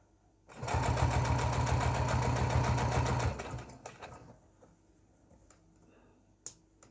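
A sewing machine stitches the side seam of a fabric advent calendar with a fast, even mechanical chatter lasting about three seconds, then winds down and stops, close and loud with no talk.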